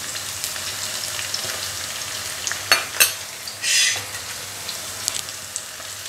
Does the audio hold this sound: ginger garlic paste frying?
yes